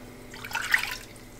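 Water is poured into a cooking pot for rice on a stove, a short, soft splashing pour that swells briefly and fades within about a second.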